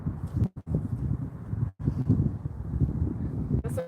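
Gusty wind buffets an outdoor garden, a steady low rumble and roar of wind noise on the microphone that runs almost unbroken, dropping out briefly twice, with no one speaking.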